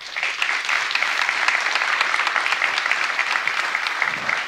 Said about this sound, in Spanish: También lo recibimos con un aplauso.